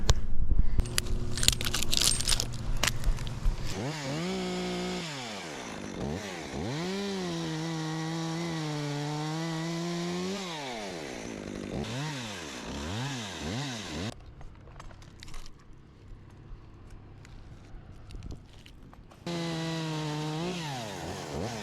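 Loud chainsaw engine revving up and down for a long stretch while cutting a tall pine limb, with pitch swings as it cuts, briefly idling in the middle before surging again.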